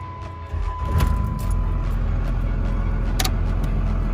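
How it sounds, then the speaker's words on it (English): A Cummins 24v diesel truck engine cranks and catches with a brief surge, then settles into a steady, low, rumbling idle close by, with a couple of faint clicks over the running engine. "So let me fire this truck up and we'll talk a little more about it."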